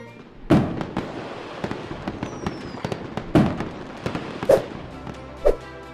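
Fireworks burst over Singapore on New Year's Eve, several sharp booming explosions with crackle and a steady crowd-like rumble beneath, heard from a distance.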